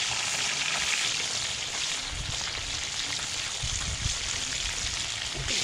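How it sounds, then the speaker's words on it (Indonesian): A steady, crackling sizzle of fish frying in boiling oil, loud and close, with occasional pops over the constant hiss. "kami langsung menggoreng ikan tersebut"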